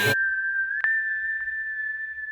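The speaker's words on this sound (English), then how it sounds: "A whistle, yes." A single clear, steady whistle holds one sustained high pitch for about two seconds with a brief swell partway through, sounding close and alone after a short burst of noise at the start.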